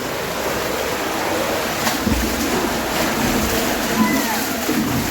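Water rushes steadily through a deep channel, a continuous close-up wash and churn with no pauses across the whole stretch.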